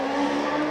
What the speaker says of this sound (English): Sounds like a motor racing circuit, that, isn't it? Formula 1 car revving up there.